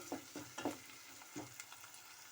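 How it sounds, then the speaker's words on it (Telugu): Sliced onions fry in hot oil with curry leaves and mustard seeds for a ladies' finger curry, a steady sizzle broken by a few scraping stirs near the pan. "ఆనియన్స్ బాగా వేగనివ్వాలి"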